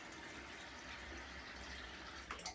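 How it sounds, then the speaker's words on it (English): Water splashes as someone wets their face at a sink, a soft continuous wash of running and splashing water, quiet and close, with a brief louder splash near the end. "I'm actually going to wet my face again, just so I have a wet face."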